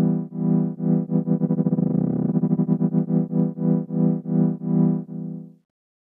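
Music processed through an autopan effect unit, a sustained distorted tone pulsing in steady rhythmic swells that speed up and then slow again, loud with no talking.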